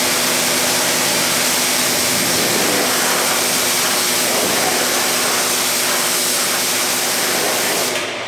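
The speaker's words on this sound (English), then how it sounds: "it's nice again having a pressure washer just to blow it off" Pressure washer blasting dirt off a 2018 Can-Am Maverick X3 XRC, a loud, continuous broadband hiss of spraying water held steady throughout, close up, with no talking.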